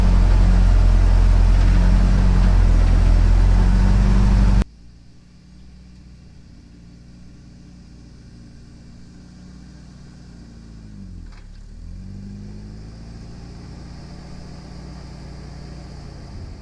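A Jeep, a former fire truck, with no working brakes, crawls slowly along in low range, its engine idling and rumbling low and steady at close range after a loud burst of noise at the start.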